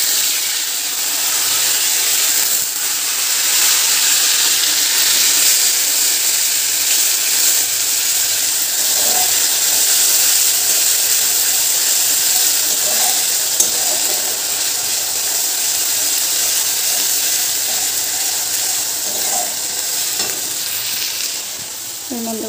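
Ginger and fresh green chili paste fry in hot oil over a cumin and black cumin tempering, giving a steady, loud, even sizzle with light stirring scrapes throughout.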